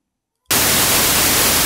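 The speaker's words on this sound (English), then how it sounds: "So I'm going to really get extreme on the noise here." After a short moment of silence, a loud, heavy hiss of added cassette-tape noise switches on abruptly and holds steady and dense to the end.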